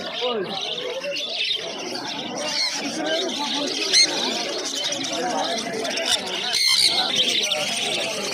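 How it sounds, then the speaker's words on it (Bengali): Many caged cockatiels in a crowded pet market chirp, squawk and call over one another in a dense, continuous chorus, while people talk in the background throughout. "প্রচুর ককটেল পাখির কালেকশান রয়েছে দেখতে পাচ্ছি এই খাঁচাটার মধ্যে"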